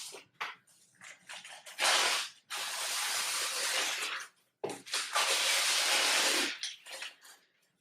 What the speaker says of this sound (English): you want to tear your newspaper up into small strips